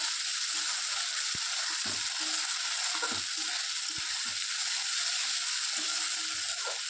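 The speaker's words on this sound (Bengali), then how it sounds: "পোস্তটা দিয়ে একটু নাড়িয়ে চালিয়ে তারপরে একটু জল দিয়ে দেবো" Poppy seed paste is stirred into masala frying in a pan, with a steady loud sizzle throughout and soft scraping strokes of the spatula breaking through now and then, close up.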